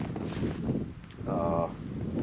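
Steady wind buffeting the microphone outdoors on a cold, sunny winter day, a low rumbling gust that rises and falls throughout, with a brief tonal hum partway through.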